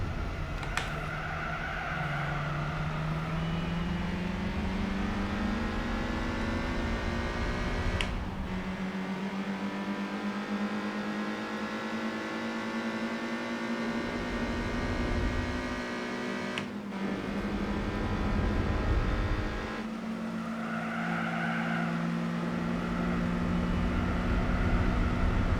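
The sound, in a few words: 1964 Ginetta race car engine in Gran Turismo 4 video game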